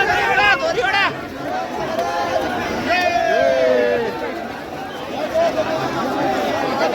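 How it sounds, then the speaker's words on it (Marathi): A crowd of devotees at the Tukaram Maharaj palkhi procession makes a dense, close hubbub of chatter and shouting, with voices rising now and then above the steady din. "भक्तांचा जल्लोष इथे पाहायला मिळतोय"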